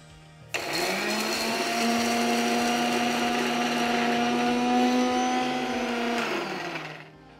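A blender whirs steadily as it mixes a china clay mixture, switching on sharply, holding a loud, even drone for about six seconds, then winding down to a stop.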